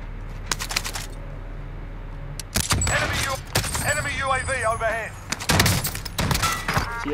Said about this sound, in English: With the slug round, with the shotgun, you have to have good accuracy.